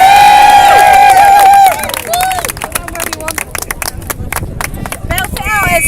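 An outdoor street crowd at a speakers' corner rally claps and cheers for a speaker, the sharp irregular hand claps and whoops rising over loud talk and shouting nearby.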